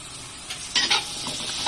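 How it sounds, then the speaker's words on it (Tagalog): Garlic sautés in a pan with a continuous close sizzle, broken by a couple of louder scraping stirs. "Ayan natin yung ating garlic. Sasutay lang."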